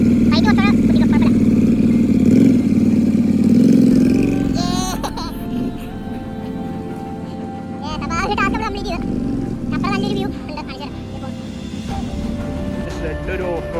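A motorcycle rides an off-road rocky trail, its engine a low steady drone that eases and then rises again, while people talk and call out over it almost continuously.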